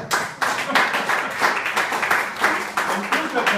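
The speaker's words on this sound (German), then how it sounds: "Ein Applaus." Applause from an audience at an event in a literature museum, steady dense clapping filling the room, with a voice talking over it.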